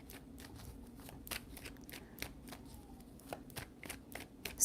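Tarot cards being shuffled by hand in quiet indoor surroundings, a run of crisp irregular riffling snaps and slaps, faint but clear, with no talk.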